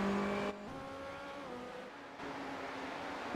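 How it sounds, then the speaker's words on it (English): Race car engine in the iRacing sim, a steady high-pitched harmonic whine that shifts pitch as revs drop and rise again, fairly faint and alone. "Listen to that engine."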